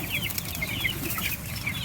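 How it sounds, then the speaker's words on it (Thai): Three-breed chickens on a mixed farm cluck and chatter in a busy, close-up flurry of short overlapping calls, with a low background rumble underneath. "ไก่สามสายครับผม"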